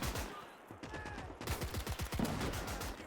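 Sustained gunfire from a World War II battle in Gates of Hell, a fusillade of rapid, overlapping rifle and machine-gun bursts cracking steadily throughout, loud and dense with no pauses.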